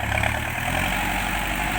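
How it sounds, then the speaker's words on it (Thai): A tractor engine runs steadily nearby, a continuous loud rumble with a constant low throb and no change in pace. "อ้าววันนี้ดูรถไถนะ"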